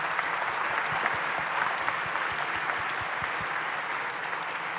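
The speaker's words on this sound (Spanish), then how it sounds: "Les pido que les demos un aplauso a los panelistas" Steady applause from a panel discussion audience at an education conference, a dense even wash of many hands clapping throughout, fairly loud and continuous with no talk over it.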